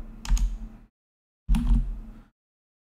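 Two short bursts of computer keyboard typing on a Windows 10 PC, close and fairly loud, separated by about half a second of silence, with a faint extra click at the end.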